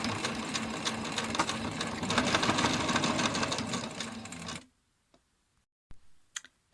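A sewing machine runs steadily for about four and a half seconds, stitching close along a bag hem to form a drawstring channel, then stops, leaving near silence broken by a few faint clicks.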